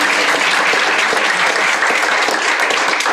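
Loud, dense applause from an event audience honoring speakers at a local desegregation history event in Denver, steady, unbroken clapping filling the whole stretch.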